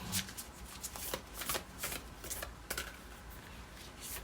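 Tarot cards being shuffled by hand, a run of crisp riffling and slapping bursts with short pauses between, close and fairly quiet, with no talking.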